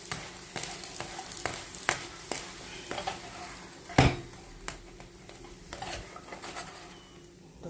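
Food is stirred around in a pan, with repeated scrapes and clinks of a utensil against the metal over a soft frying sizzle, and one sharper knock midway.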